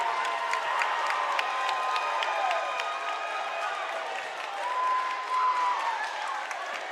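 A gym crowd at a district high school basketball game roars and claps after a dunk, a steady wash of cheering with scattered whistles and shouts, while a commentator's voice runs faintly beneath.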